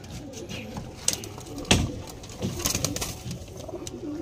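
Tournament pigeons in a loft with paired birds coo steadily at close range, low throaty calls under scattered clicks, a sharp knock and shuffling movement.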